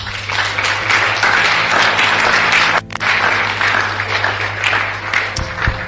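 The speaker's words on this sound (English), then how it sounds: "If you want to clap, clap." An audience claps steadily and densely at a grace-themed sermon, loud and sustained for the whole stretch with a brief dip midway, with no talk over it.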